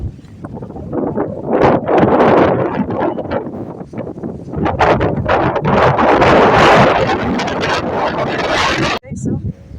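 Strong wind sweeps across a hilltop campsite at Rainbow 89 in Tanay, Rizal, a loud continuous roar and buffeting of the microphone with people talking underneath.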